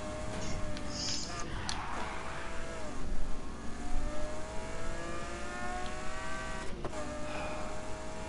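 A Nissan GTR engine revs in a racing video game, a steady droning whine climbing and shifting in pitch through gear changes, with brief bumps and bursts along the way.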